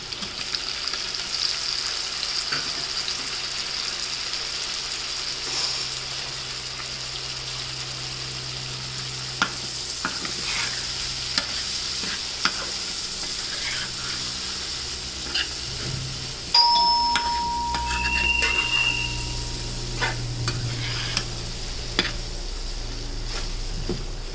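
Tomatoes fry in a pan with onion, green chili, salt and turmeric, giving a quiet, steady sizzle broken by occasional utensil clinks from stirring and a short ringing tone.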